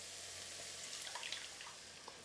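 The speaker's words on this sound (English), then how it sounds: "I'm adding a little water here." A little water is poured from a bowl into a pot of tomato passata for a Sicilian meatball ragu, producing a short, soft, continuous splashing trickle with a few faint drips.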